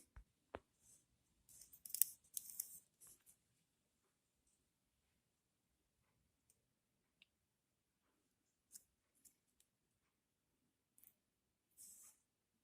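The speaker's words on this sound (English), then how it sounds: "Let us cut the ovary to see the ovules." A flower ovary being cut with a blade: a few soft snips and crisp clicks, faint and close, spaced out with long quiet gaps between them.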